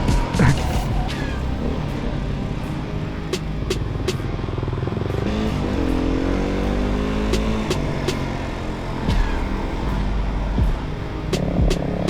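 A dirt bike rides over a trail with its engine revving and rumbling steadily up close, throttle rising and falling over rough ground, with no talking.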